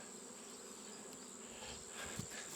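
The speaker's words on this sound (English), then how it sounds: "That was so many bloody bees." A large swarm of bees hums inside a box, a steady, dense buzzing that holds evenly throughout at moderate volume.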